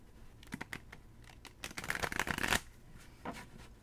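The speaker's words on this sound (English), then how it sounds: "One more shuffle." Tarot cards are shuffled by hand close up, a soft riffling patter that builds into a dense flurry before stopping, followed by a few scattered taps, with no talk.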